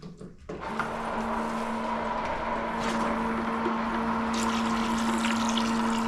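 A small electric pump runs steadily, circulating water through a tankless water heater during a vinegar flush. The hum starts abruptly after a brief rustle and holds a constant tone with a faint watery wash behind it.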